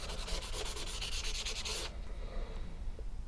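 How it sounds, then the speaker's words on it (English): Sandpaper rubbed back and forth on a steel knife blade makes a close, rhythmic scratching for about two seconds before fading to quiet residual rubbing. "none of the sandpaper I've got is quite good enough to actually make much of a dent in this steel."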